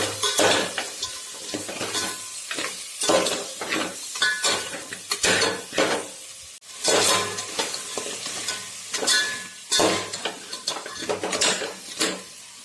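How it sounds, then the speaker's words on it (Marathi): Crab middle pieces and claws are stirred in a masala mixture for crab curry, with a steady sizzle of frying under repeated scraping and clinking of a spoon against the pan. There is no talking. "मी हा खेकड्याचा मधला गाभा आणि नांग्या घालत आहे आणि हलवून घेत आहे"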